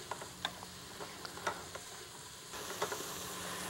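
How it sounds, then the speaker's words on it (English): Vegetables sautéing in butter with a little salt inside a Cuisinart pressure cooker, a steady low sizzle with scattered light scraping taps of a stirring utensil, close and fairly quiet, no talking. "I'm adding a little bit of salt to it also and keep on stirring it until really my vegetables start on being lightly cooked"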